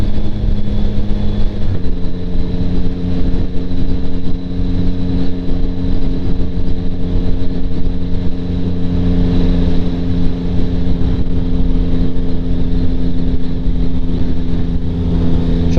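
A 2025 Yamaha MT09 motorcycle fitted with a Kelpi Flanker exhaust is heard close and loud while riding. Its engine drones steadily at cruising revs, with a slight shift in tone early on.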